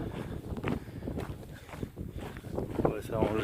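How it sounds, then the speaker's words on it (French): Gusty wind buffets the microphone in low rumbling bursts while French-speaking voices talk intermittently nearby on the Camino de Santiago pilgrimage route. "il y a du vent, ça va encore faire du bruit"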